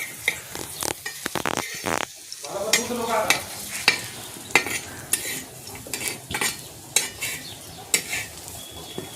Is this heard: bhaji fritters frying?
yes